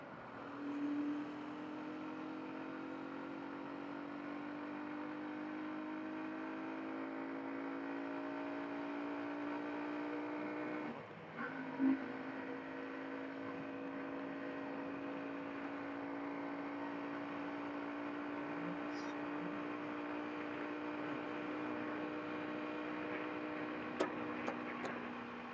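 A Hero Xtreme 125R motorcycle rides onto a bridge, its engine a steady, even drone held at constant revs throughout, with a brief dip and a small thump partway through.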